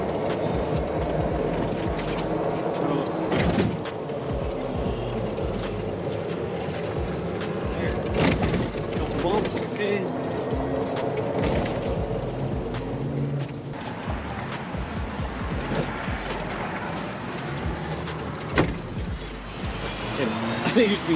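A Vivid PEAK lithium golf cart rolling along outdoors, a continuous motor and tyre drone with wind, while people talk loudly over it.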